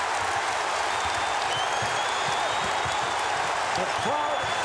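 Basketball arena crowd at an NBA Finals game between the Lakers and 76ers, roaring in a steady, loud wash of cheering and applause after Dikembe Mutombo blocks a shot.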